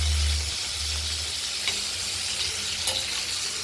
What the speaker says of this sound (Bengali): প্রতিটা পটলকে এপিট ওপিট করে আমরা হালকা ভেজে নেব